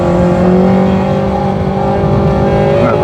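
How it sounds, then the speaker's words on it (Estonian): Racing car tyres squealing on the Tabasalu kart track, a sustained tonal screech riding over a steady loud engine drone while the car runs through a corner, with no talking. "Praegu rehvid kirunuvad"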